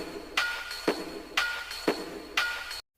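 A drum beat assembled from Clash of Clans video game sound effects, with steady alternating hits, a bright snappy clap-like sound and a softer low thump, repeating evenly about every half second, processed with reverb and compression and heard alone.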